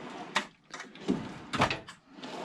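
Small drawers in a workshop cabinet slide open and shut, giving a few soft wooden thumps and scrapes at close range in a quiet room.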